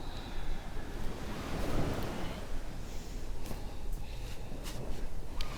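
Steady ocean surf rolling and washing along a shore on Maui, a continuous broadband rush with gentle swells and some wind, no voices.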